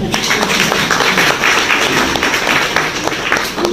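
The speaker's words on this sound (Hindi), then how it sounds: "इसके लिए ताली तो बजा दो।" An audience claps steadily at a business-plan presentation, a dense, continuous patter of many hands that stays even and loud throughout.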